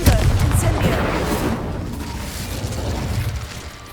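Confringo and Incendio spell blasts in the Hogwarts Legacy video game, aimed at a pile of debris blocking a stairwell, making a loud burst with crackling debris followed by a rumbling, fiery roar that slowly fades.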